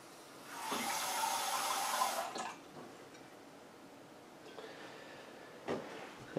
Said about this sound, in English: just put a little bit of water. You can put it in a cup.